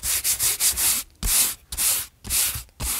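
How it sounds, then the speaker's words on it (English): Dry paint nibs being rubbed off a painted nebula and galaxy canvas by hand, a close, steady scratchy friction in repeated strokes with brief pauses between passes, no talking. "Those little nibs that we've been painting over the whole time rub right off."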